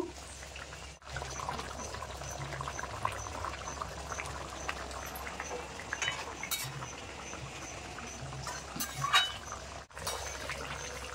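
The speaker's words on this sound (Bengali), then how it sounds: "এবার ভেজে রাখা মাছ দিয়ে দেবো। মাছ দিয়ে একটু ফুটিয়ে নেব।" Boal fish kalia curry, with fried chunks of a 2.7 kg boal fish added to the spiced gravy, simmering and bubbling steadily in the pot, a continuous soft burble with occasional clinks and stirring noises, no talking.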